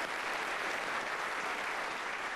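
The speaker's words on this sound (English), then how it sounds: "Round of applause for Alice." Audience applause for a guest on stage at a live mentalism show, a steady dense wash of clapping from many hands that holds evenly throughout with no voices.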